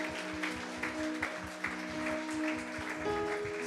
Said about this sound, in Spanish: Demos aplausos al Señor por su palabra.